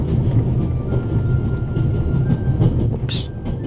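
A train rolls along in The Raven video game, a steady rumbling drone with faint rail clatter running throughout, close and continuous, with a brief sharp metallic squeal near the end.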